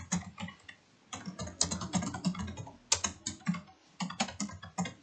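Typing on a computer keyboard while entering text into a Microsoft PowerPoint slide, a brisk run of close, crisp key clicks in bursts separated by short pauses.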